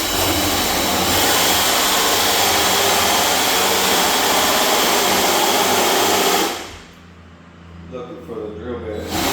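A power drill bores a doorknob hole through a door, a loud, steady whirring grind lasting about six seconds before cutting off abruptly, followed by quieter handling sounds and a voice talking.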